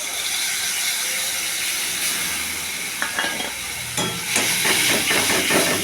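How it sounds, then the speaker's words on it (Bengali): Spice mix hits hot oil in a pan while potato curry with tomato, cloves and salt is cooked, sending up a steady hiss that turns into sharper crackling bursts and stirring scrapes. "এবার হচ্ছে মশলাটা ছেড়ে দেবো।"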